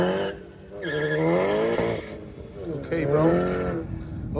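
Cars in the video game DayZ revving and rushing past with tire squeals, engine pitch rising and falling in loud sweeps, while excited voices talk over them.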